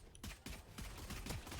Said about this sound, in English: Oh, some gunfire across mid with some ghosts.